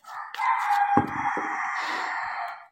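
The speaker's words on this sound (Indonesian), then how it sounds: "suara ayam" A rooster crows once, a loud, close and long drawn-out call with no other sounds around it.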